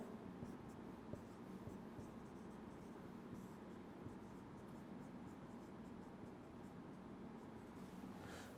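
Chalk or marker writing chemistry formulas on a board during a chemistry lecture on carboxylic acids, heard as a steady, continuous scratchy stroke sound with no voice over it.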